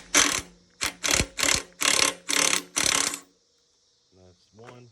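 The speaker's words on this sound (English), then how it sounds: "So I'm going to go ahead and get started and take the bolts off." A ratchet wrench loosens the 19mm suspension bolts on a Harley-Davidson touring motorcycle, six loud close bursts of rapid clicking, then quiet and a short voice at the end.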